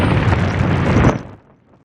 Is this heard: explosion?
yes